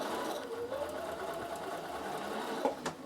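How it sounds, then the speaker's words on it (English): A Bernina sewing machine stitches around a circle with a quarter-inch seam, a steady, close motor whir and needle patter running without a break and with no talk. "now you simply just sew right round in a circle with a 1/4 inch seam"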